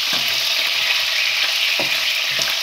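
Kofta meatballs fry in a pan of hot oil as they slowly brown, giving a steady dense sizzle with a few soft stirring knocks and no talk.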